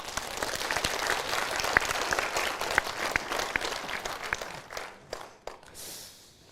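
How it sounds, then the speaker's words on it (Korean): A church congregation breaks into applause during a revival sermon, a large room full of steady clapping with sharp individual claps standing out, holding for several seconds before tapering off into a few scattered claps. "다윗을 위해서 박수 한번 쳐봐."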